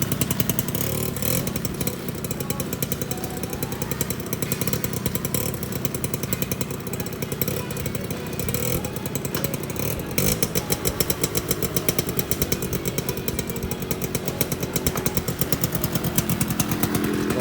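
Vehicle engine running while being driven, a loud, steady, buzzing drone with rapid rhythmic pulsing that continues throughout, close and without talk.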